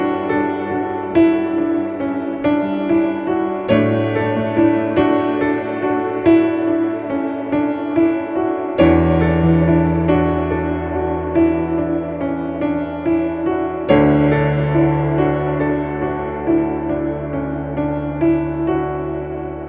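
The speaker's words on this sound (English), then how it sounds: "the piano continues playing that line the entire time." Worship piano carrying a flowing right-hand lead line over a bridge chord progression, sustained chords shifting every few seconds beneath continuous melodic movement, solo and full-bodied with no voices.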